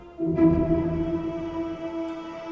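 A sustained synthesizer tone from a free plugin swells in and holds a rich, droning pad texture with steady harmonics, played alone at moderate volume.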